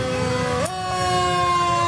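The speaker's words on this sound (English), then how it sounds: "Behind that Ronceverte fire engine, we have another fire engine" A fire engine siren wails loudly and close at a small-town river festival parade in Ronceverte, its steady rising and falling tone sweeping up sharply partway through over outdoor crowd noise.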